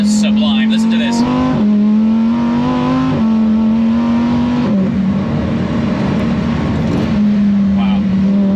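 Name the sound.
Lamborghini Huracan STO engine and gearbox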